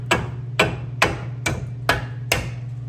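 Six sharp hammer blows ring out on a bent metal shield of a 2007–2015 Ford Edge during ball joint replacement, at an even, steady pace, close and loud over a low electrical hum.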